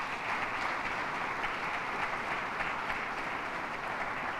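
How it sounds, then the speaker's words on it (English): An audience at a press conference on public safety with Governor Hochul gives a steady round of applause. The clapping is soft and distant and lasts the whole stretch, with no talk over it. "Let's give our great mayor a round of applause."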